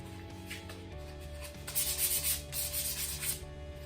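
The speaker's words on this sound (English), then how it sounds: "Look at that sandpaper. Got some 220 grit." Scuffing a surface with 220 grit 3M sandpaper, close, soft rhythmic rubbing strokes that grow louder midway, with no talking.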